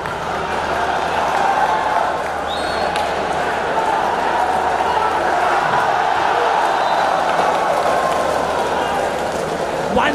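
A volleyball crowd at the 2018 national championship match between Kerala and Tamil Nadu in Kozhikode keeps up a steady roar of cheering and applause, while a commentator talks over it throughout.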